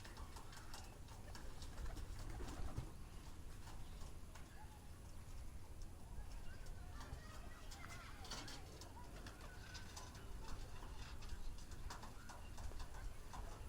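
Pigeons at a pigeon farm cooing faintly amid dense, continuous background noise, with muffled voices and scattered clatter around them.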